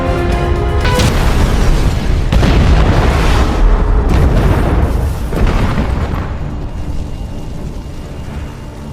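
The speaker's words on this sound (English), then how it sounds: "soon the place would explode" A movie explosion unleashes a series of loud, deep booms in quick succession, then trails off into a long rumbling decay.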